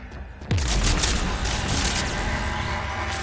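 A sharp, loud gunshot in a video game sets off a dense, rattling volley of rapid fire that continues steadily to the end, with no talking.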